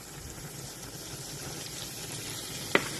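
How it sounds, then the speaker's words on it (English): Flour cooks in melted butter in a pan with a faint, steady low sizzle, and a single light clink sounds near the end. "once our butter is melted down, we are going to get our flour cooking in it"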